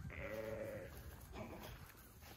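Goats at a Nemacolin resort give a single wavering, nasal bleat up close, followed by fainter animal noises and quiet outdoor ambience.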